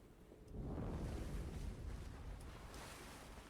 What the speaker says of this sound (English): You can hear the water out there.